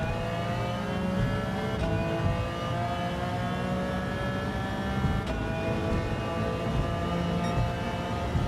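Race car engine of a McLaren in a racing video game, revving steadily with rising and falling harmonic whine, continuous and loud, no talk.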